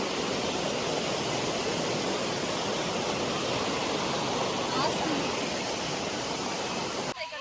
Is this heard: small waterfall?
yes